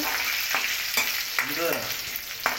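Mustard seeds, cumin and curry leaves crackling in hot oil, a busy close sizzle punctuated by several sharp pops and spatters at irregular moments, with no talking.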